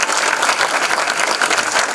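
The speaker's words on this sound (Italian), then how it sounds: "il nostro Gaetano De Vico, un applauso" Steady, dense applause from a theatre audience greeting the actors of an Italian stage comedy, a continuous wash of many hands clapping close and loud with no gaps.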